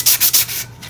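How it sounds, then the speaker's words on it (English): Three quick scratchy strokes of 400-grit sandpaper rubbing a hard tumbler cup, close up, followed by a softer trailing rub. "Just lightly sand with 400 grit"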